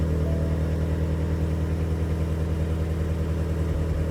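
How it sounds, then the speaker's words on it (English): A modified 2019 Ford Mustang GT350 with its V8 idling through a dual-mode exhaust, a steady, deep, throbbing burble held evenly close by, with no revving and no voices. "You can clearly hear the car is a very healthy vehicle."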